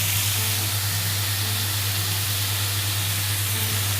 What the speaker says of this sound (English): Now we can add our butter to it